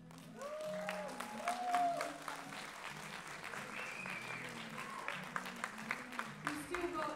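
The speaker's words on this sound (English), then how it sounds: "Can you please give a round of applause for everyone who has performed tonight?" Concert audience applauding the night's performers at a music launch event, steady crowd clapping for about seven seconds with a few sharper individual claps standing out near the end.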